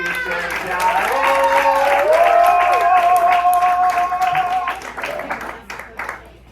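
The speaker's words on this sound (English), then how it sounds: "Another round of applause for Judy." An audience at a comedy show claps and cheers loudly while a voice talks over it, and the applause fades toward the end.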